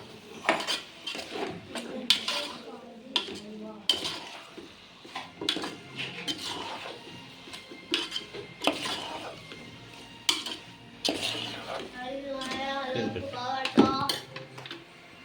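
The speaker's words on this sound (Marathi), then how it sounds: "चांगल्या पद्धतीने मिक्स करून घ्यायचं" Food being stirred and mixed in a pan with a utensil, repeated clinks and scrapes in an irregular rhythm, close and fairly quiet, with people talking in between.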